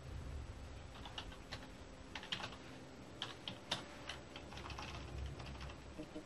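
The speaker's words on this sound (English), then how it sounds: "I'll just type it in with my keyboard" Typing on a PC computer keyboard, a steady run of quiet clicky keystrokes with a few sharper taps, close and alone without speech.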